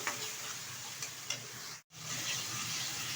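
Potatoes sauté with spices in a pan over high heat, giving a steady, fairly faint sizzle with light stirring ticks. A very brief dropout falls midway.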